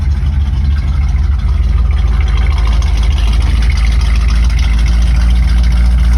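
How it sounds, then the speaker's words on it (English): A 1955 Chevy Nomad engine idles steadily in neutral with a deep, low rumble and continuous exhaust drone, loud and close, no voices. "The engine sounds pretty good."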